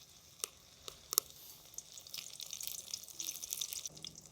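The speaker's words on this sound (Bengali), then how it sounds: "এই যে বেলে রাখা লুচিগুলো আমি একটা একটা করে ভেজে নিচ্ছি" Luchi puffed bread frying one at a time in hot oil, a soft steady sizzle and bubbling hiss that swells toward the end, with a few sharp clinks and taps early on.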